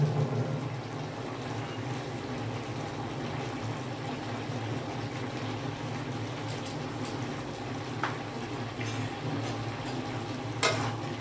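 Fig curry cooks down in a pan, with a steady low sizzle and bubbling as the last of the water evaporates; a few faint clinks of stirring break in near the end, with no talking.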